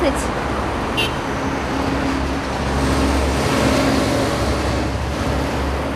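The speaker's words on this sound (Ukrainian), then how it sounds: "Їде досить багато машин" Steady stream of cars rolling along a busy city street in Chernivtsi with no traffic light or speed bump, a continuous low roar of passing engines and tyres close by, with faint voices underneath.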